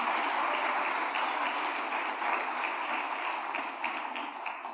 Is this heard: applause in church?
yes